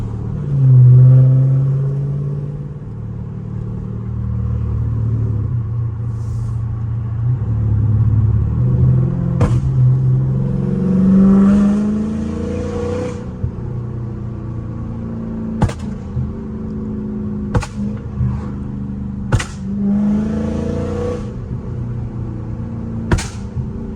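A car's exhaust burbles and rumbles steadily while driving, low and close. Sharp pops and cracks break in later, some loud, with no talking.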